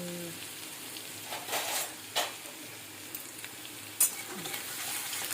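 Garlic fries in plenty of mustard oil with a continuous crackling sizzle, close and fairly soft, punctuated by occasional stirring scrapes and sharp spatter pops.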